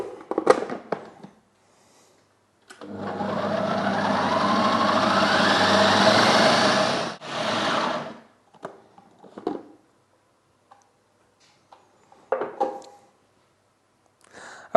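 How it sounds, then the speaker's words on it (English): A blender pulses pumpkin pie filling in a kitchen, with one long, loud whirring run of about five seconds followed by a short burst and a few faint knocks. "So we're just going to blend this up, probably pulse it a couple of times"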